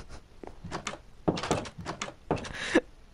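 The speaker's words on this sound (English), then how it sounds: "I need to knock first" Knocking on a door in Minecraft comes through as several separate hollow thunks in an uneven sequence, moderately loud and close, with no voices.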